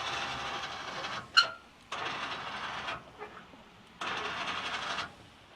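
Electric motor of a rooftop tinny boat loader whirs in three steady bursts of about a second each as it reverses, with a short clunk and brief pauses between runs.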